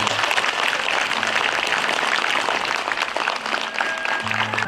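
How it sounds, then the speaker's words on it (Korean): Audience applause at a Buddhist temple anniversary ceremony, broad sustained clapping from a large outdoor crowd over a low tonal hum, continuous and fairly loud. "박수 부탁드리겠습니다"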